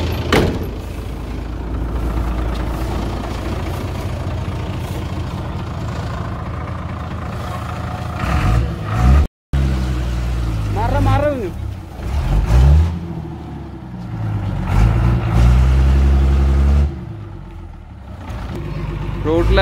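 Engine of an old abandoned bus running as it is driven, a loud, rumbling drone that revs and swells in surges, with voices talking over it.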